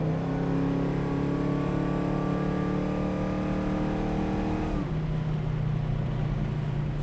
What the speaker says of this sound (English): Here we are doing about 50 miles per hour.